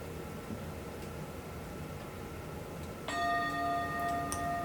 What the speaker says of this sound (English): So soon you're going to hear the bell.